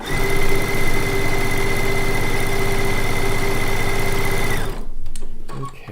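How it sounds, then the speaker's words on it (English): A Solaris serger pieces quilt blocks with a fast, steady mechanical hum close by, then stops abruptly near the end, leaving faint handling sounds. "one group of blocks will be pieced on the serger, and this is on the Solaris."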